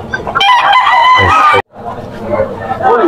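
A Boston Roundhead gamecock crows loudly and close, one long strained call broken off sharply, followed by clucking and rough bird sounds.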